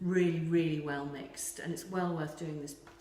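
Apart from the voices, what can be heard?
None of the usual background noises is heard.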